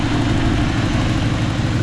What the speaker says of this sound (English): Engine's ticking over nicely.